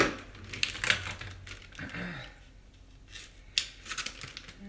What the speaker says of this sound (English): So let's try a pair of scissors.